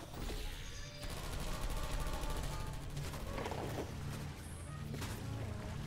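Automated turrets firing in the Portal 2 co-op video game, a dense, continuous burst of rapid gunfire clatter that stays loud for the full stretch with bright crackling impacts mixed in.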